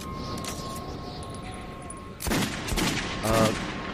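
Gunfire in the Metro 2033 video game: a few sharp bursts arrive in the second half after a quiet stretch, loud and close, with no talking over them.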